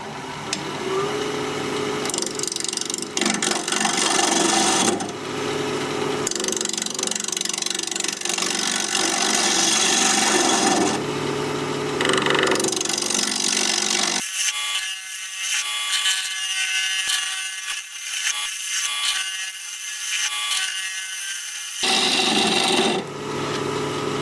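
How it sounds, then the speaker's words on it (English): A half-inch bowl gouge cutting an olive wood dish on a lathe spinning at 1400 RPM, with a continuous scraping, rasping cut that pauses and resumes in several long passes, close and loud, with no talk. "I'm going to use a 1/2-inch bowl gouge"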